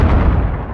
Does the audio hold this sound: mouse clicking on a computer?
no